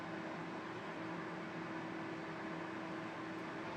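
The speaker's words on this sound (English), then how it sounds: "for like this air fryer oven, we're just going to put it on and set it for probably about 170, 180" An air fryer oven runs steadily while heating to around 170 to 180 degrees for a chicken parmo, giving a constant fan-like whir with a low electrical hum, close and unbroken, with no voices.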